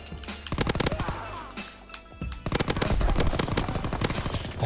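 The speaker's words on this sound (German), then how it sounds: "Da schießt durch die Wand." Gunfire tears through a wooden wall in a Roblox shooter, with loud, rapid automatic bursts broken by brief pauses and then a long, dense volley.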